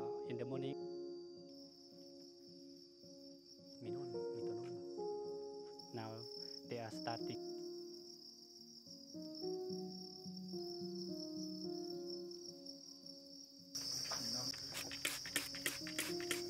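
Crickets on an insect food farm within a permaculture farm in Laos, a steady high chirping drone running throughout with people talking and clattering nearby over it.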